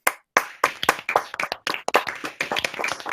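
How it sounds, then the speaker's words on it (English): Graduates on an online graduation video call clap in quick, uneven bursts of close, sharp handclaps with brief gaps between them, sounding like a few people clapping into their microphones. "So I warmly welcome you to unmute yourself now and cheer and clap for each other."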